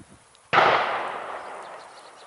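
A single loud gunshot from hunters rings out across a lake from its far end, a sharp crack followed by a long booming echo that fades over nearly two seconds, with no talking.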